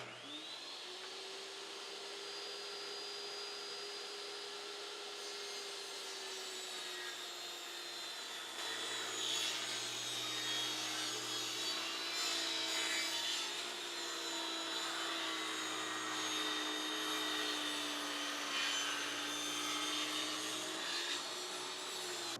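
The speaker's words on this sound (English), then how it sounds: "let's go ahead and rip down the corners on all 8 of these boards" Power saw ripping a 45 degree taper along the corners of 8- and 10-foot wood trim boards for a 10x12 shed, a sustained whining motor drone that holds steady and deepens slightly under load.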